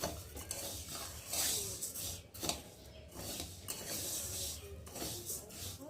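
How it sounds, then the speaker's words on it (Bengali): Dry lentils are fried in a pan and stirred with a metal utensil. A soft sizzle sits under repeated scraping and rubbing strokes with light clinks of metal on the pan, fairly quiet throughout. "তো দেখো আমি এখন ডালটা ভালো করে ভেজে নিই"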